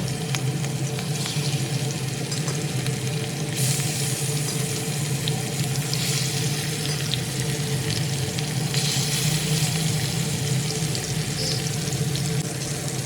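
Pieces of rohu fish frying in hot oil in a pan, a loud, dense, continuous sizzle that holds steady throughout with no talking.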